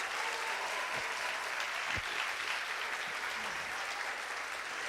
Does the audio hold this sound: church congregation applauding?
yes